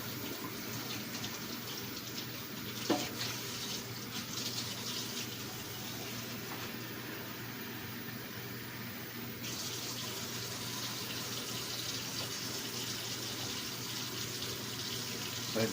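Cold water runs from a kitchen tap in a steady, continuous gush for a cooking batter, holding a constant level throughout with no speech.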